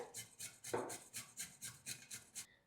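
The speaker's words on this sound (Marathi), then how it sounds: "दुधी किसण्यासाठी आपल्याला जाड किसणी वापरायची बारीक किसणी वापरायची नाही दुधी किसून घेऊया" A bottle gourd grated on a coarse kitchen grater: about ten rhythmic rasping strokes, close and fairly quiet, with no talk.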